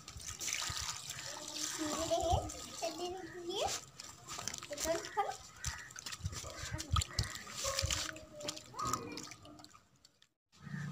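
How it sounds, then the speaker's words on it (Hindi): Cut potatoes for finger chips are rinsed in water in a home kitchen, with splashing and dribbling sounds close by, mixed with speech and a voice throughout. "अब हम इसको धो लेंगे।"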